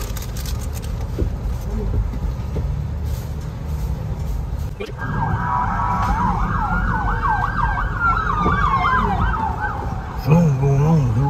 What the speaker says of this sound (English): Something going on with the old siren.